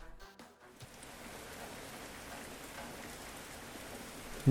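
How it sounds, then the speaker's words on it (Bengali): Rain falls at night in a forest, starting after a brief quiet moment and then settling into a soft, even patter that carries on alone. "হঠাৎ করে বৃষ্টি শুরু হলো।"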